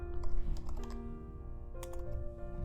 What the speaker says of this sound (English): So let's type chapter 4